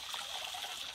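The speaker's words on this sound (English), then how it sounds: "Water flows by gravity pressure." Clean, already-filtered underground water runs by gravity through buried pipes in Uganda, giving a steady, soft rushing trickle that holds even and unbroken throughout, with no voices.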